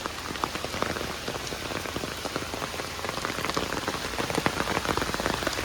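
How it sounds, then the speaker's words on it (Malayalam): Heavy rain pours steadily on a rubber plantation, a dense, loud, continuous patter of drops drumming on surfaces and plastic sheeting, with no voices. "എനിക്ക് എന്ത് മഴയാണ്"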